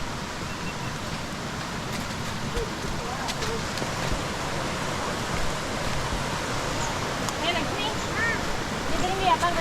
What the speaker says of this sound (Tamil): தண்ணி சுத்தமான தண்ணி, சூப்பராக சவுண்டு கேட்குது